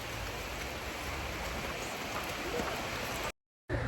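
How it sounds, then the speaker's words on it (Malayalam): Heavy rain pours down outdoors, a dense continuous hiss of falling water that stays even and fairly quiet before cutting out briefly near the end. "നല്ല മഴയുണ്ട്."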